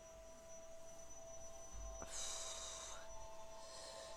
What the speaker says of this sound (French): excusez-moi pour le son d'aspirateur.